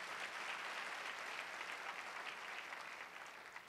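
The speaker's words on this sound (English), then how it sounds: "Give her a round of applause." A crowd at a faith leaders' rally for paid family leave and a higher minimum wage claps steadily, a dense, even wash of applause that stays loud throughout and eases slightly near the end.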